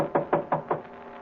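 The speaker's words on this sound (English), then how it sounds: "Then I knocked again." Four evenly spaced knocks on a door in a 1940s radio drama, sharp and close, followed by quiet.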